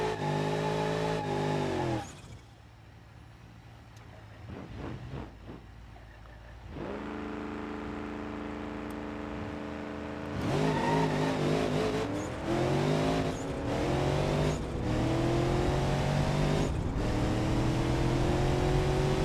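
A Rotsun drag car with a turbo swap makes a full drag-strip pass in BeamNG.drive. The engine revs loud and close through repeated gear-change cycles, with tire squeal and a steady roar running from start to finish, and no talking.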